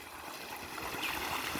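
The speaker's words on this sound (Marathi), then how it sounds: "की पाणी असं खाली पडतं" Water spills over the rim of an overflowing tank and falls, producing a steady, soft splashing rush heard from nearby, continuous and moderately quiet, with no voices.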